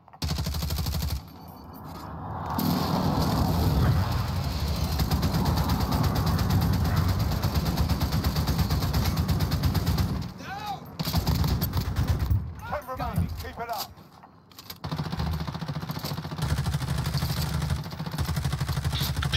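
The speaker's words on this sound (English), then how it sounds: "friendly precision airstrike inbound." Call of Duty: Warzone Resurgence match with a precision airstrike landing amid gunfire, dense sustained bursts of shooting and rumbling explosions heard close and loud, with brief lulls, mixed under game audio.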